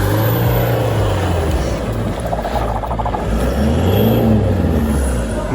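An Isuzu D-MAX pickup drives through deep snow, its engine droning loud and close with rising and falling revs, steady throughout with no voices.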